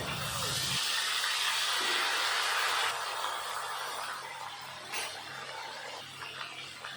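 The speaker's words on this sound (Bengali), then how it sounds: "কাঁকড়াগুলো আমি এখন ভালো করে ভেজে নেব" Boiled crabs hit hot oil with turmeric, setting off a loud, close hissing sizzle that holds strong for a few seconds and then gradually settles into a quieter, steady fry without speech.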